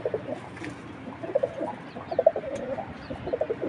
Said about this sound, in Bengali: মাত্র দুই জোড়া কবুতর